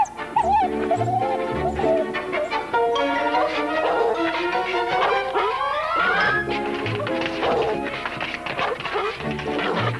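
A dog barks, yips and whimpers in excited bursts, close and loud over a stretch of several seconds, mixed with some brief background voices.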